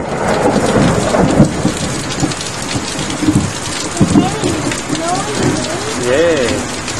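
Thunder from lightning strikes rolls through a heavy thunderstorm with steady rain on surfaces, low rumbles swelling several times over the constant downpour, with faint voices in the background.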